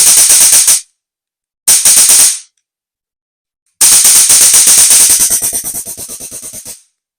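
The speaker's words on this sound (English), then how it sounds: "You can charge your stun gun. Now it's time to test it." Homemade DIY rechargeable stun gun being tested, firing loud, harsh crackling electric bursts at close range: two short zaps, then a longer buzzing discharge that slows and fades before cutting off.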